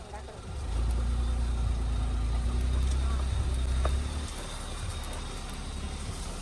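A car engine idles at a farmhouse during mango harvest, a low steady rumble that drops away after a few seconds, while people talk nearby.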